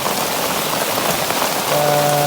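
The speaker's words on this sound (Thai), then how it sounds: "ฝนตกแล้ว" Steady rain falls outdoors, a dense, even hiss of drops hitting surfaces that fills the whole stretch, with a faint tonal hum creeping in near the end and no talking.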